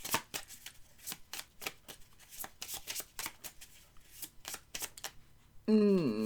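Lenormand fortune-telling cards are shuffled by hand in a rapid, rhythmic series of crisp riffling slaps, loud and close, ending in a brief tonal sound.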